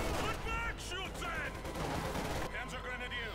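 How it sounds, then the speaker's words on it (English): A grenade detonates on a mine in Company of Heroes 2, a sharp blast with crackling gunfire around it amid busy battle noise and faint voices. "Panzer's grenade going off there on the mine"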